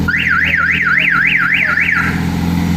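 A loud Honda Civic EG hatchback car alarm wails in quick rising-and-falling sweeps for about two seconds, then stops, leaving a steady engine idle underneath.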